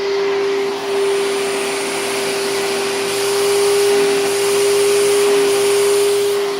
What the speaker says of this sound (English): Oh, got so much airflow here, and I'll show you.